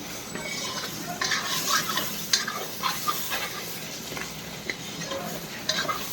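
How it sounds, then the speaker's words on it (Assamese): Meat and potatoes fry together in a pan, a steady sizzle broken by repeated scraping and clinking of a spoon stirring through them, with no talking. "মাংস ভাজা আলু দিলোঁ, পূৰা ভাজি লওঁ মাংসৰ লগত আলুটো"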